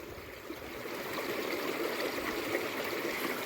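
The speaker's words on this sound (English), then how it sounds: "The spring provided cold water." Cold spring water flows steadily at the ruins of an old stone spring house, a continuous close stream burble that swells slightly louder after the first second and holds alone with no voices.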